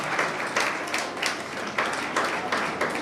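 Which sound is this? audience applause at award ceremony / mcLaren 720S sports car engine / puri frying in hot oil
audience applause at award ceremony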